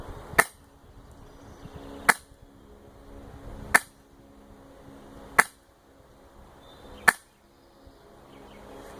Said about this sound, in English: we're going to take some test shots with our chrono here